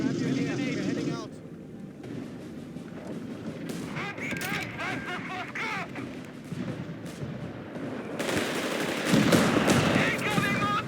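Gunfire and mortar fire in Company of Heroes 3, a North Africa battle at Tobruk: dense bursts of shots and booming blasts that rise and fall, with shouted soldier voices over the combat.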